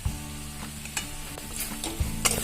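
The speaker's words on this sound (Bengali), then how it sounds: "এবার এই সব মশলা আরো কিছুক্ষণ ধরে কষিয়ে নেব" A spice mixture with turmeric, a little water and salt is stir-fried in a pan for Bengali doi potol, giving a steady soft sizzle over a low hum, with a few spatula scrapes and taps.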